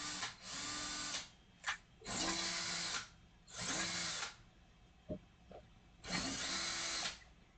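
Power drill turning a screw extractor to back out a stuck screw, running in four close whirring bursts of about a second each, with faint clicks and knocks in the quiet gaps between them.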